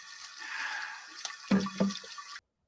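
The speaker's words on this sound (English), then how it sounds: "You need to wash with cold water, Billy." Cold water runs steadily from a tap for rinsing a burn, a soft continuous splash broken near the end by a couple of brief knocks before cutting off abruptly.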